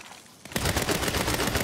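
Dense, sustained gunfire from a Saints Row mission firefight bursts in after a quiet half-second, a loud continuous fusillade of rapid shots that carries to the end without speech.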